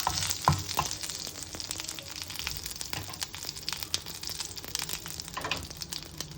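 Curry leaves sizzle and crackle in hot oil as a tempering for cabbage carrot kootu, a steady close frying hiss with quick pops and occasional stirring, no talking.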